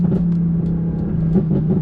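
Audi R8 exhaust droning loudly while driving on the road, a steady low rumble with slight rises in engine pitch, no talking over it.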